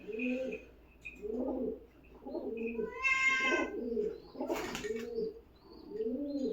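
Sick pigeons kept indoors while being treated for a cold give soft, repeated low coos in a steady rhythm, close and clear, with a brief brighter call and some rustling in the middle.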